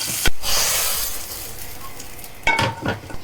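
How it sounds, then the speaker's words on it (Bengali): Garlic frying in hot oil for a dal tempering gives a loud, close, continuous sizzle, with a sharp clink at the start and a few stirring knocks near the end. "ডালের মধ্যে বাগার দিয়ে দিব, রসুনগুলা ভেজে নিচ্ছি।"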